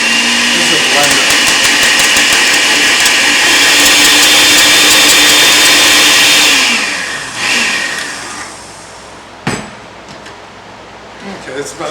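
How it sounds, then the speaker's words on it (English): A kitchen blender runs with a loud, steady whir for several seconds, then cuts off and winds down, leaving a quieter room with a sharp clink and light handling noises. "this is a blender."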